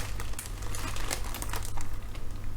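A plastic bag crinkling close up as salmon and miso paste are put into it, with continuous rustling and crackling and no talk.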